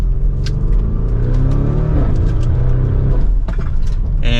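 Lamborghini Urus SUV pulling hard from second gear, a loud, deep engine roar that builds steadily with rising harmonics, close and continuous, ending with a brief whoosh.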